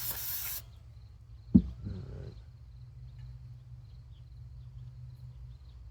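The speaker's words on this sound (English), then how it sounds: "Spray the bottom of our bowl off too while we're here." A short, sharp hiss of cleaner sprayed onto a lawn mower carburetor bowl right after a brief burst at the start, then a quiet low hum continues to the end.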